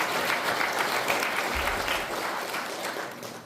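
Applause from a ceremony audience honoring a museum director at a Korean Provisional Government anniversary event, a continuous dense clatter of clapping hands at steady volume that fades a little toward the end, with a brief low thump partway through.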